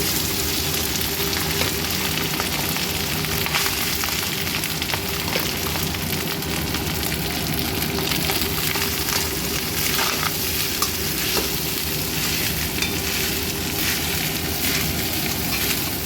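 Cooked rice frying in a pan for fried rice, with cumin seeds already in the oil, gives a dense, loud, continuous sizzle and crackle that is steady throughout, with no talking.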